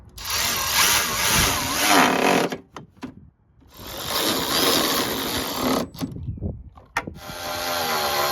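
Power drill driving screws back into the front bumper of a Cadillac CTS after a headlight bulb change, a loud steady whirring run of about two and a half seconds, then two more runs with brief clicks between them.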